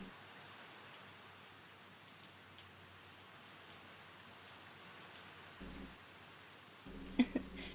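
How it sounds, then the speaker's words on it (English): Steady soft rain falls as a constant wash of patter, faint and even throughout, with a few brief low thumps and a short sharp tap near the end. "you are welcome to stay and listen to the rain sounds for a little bit"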